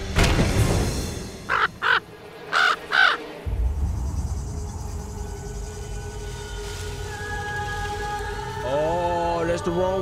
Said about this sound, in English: Even the crow warning you.